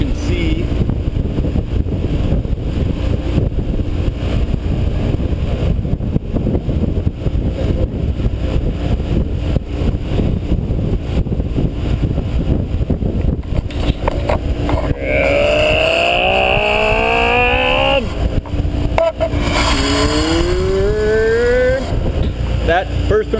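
Tuned Subaru STI running E85 fuel on a dyno, a loud continuous engine roar building through a pull, with turbo whistle and rising revs toward the end, under someone talking.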